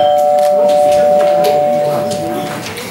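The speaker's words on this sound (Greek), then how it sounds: "άξαφνα μέσα στη νύχτα, το κουδούνι χτυπά" A doorbell rings during a Christmas school theatre play in Santa's workshop, a steady, sustained electronic tone lasting about two seconds amid a noisy hall, then fading as the sound settles.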